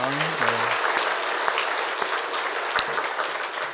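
A church congregation applauds during a Sunday service, steady dense clapping from many hands that sustains throughout. Someone speaks briefly over it at the start.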